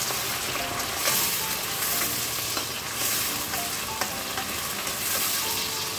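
Chopped onions and tomatoes fry in a pan for a pumpkin curry, giving a steady, dense sizzle with soft stirring knocks throughout and no voices.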